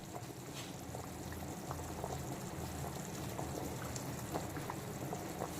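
Fish curry gravy with rohu and taro bubbles as it boils in a pot, a soft continuous simmer with scattered small pops and gurgles, faint and steady throughout.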